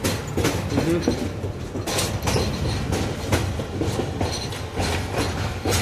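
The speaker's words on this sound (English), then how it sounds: "I think I just heard a train, maybe?" A passing train hauling maintenance-of-way cars rolls by close and loud, its wheels beating a steady clickety-clack over rail joints with a constant rumble underneath.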